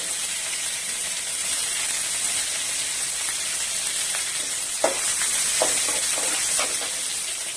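Green chillies, curry leaves and onions sauté in a pan for puffed-rice upma, giving a steady, close sizzle with a few scraping stirs toward the end.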